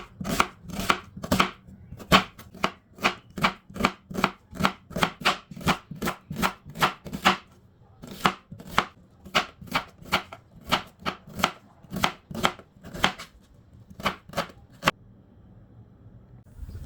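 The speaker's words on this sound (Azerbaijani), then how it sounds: "Əvvəlcə bir böyük soğanı kub-kub doğrayıram." A large onion being diced into cubes on a cutting board: a long run of steady, rhythmic knife chops, close and crisp, with a few brief pauses and the strokes thinning out toward the end.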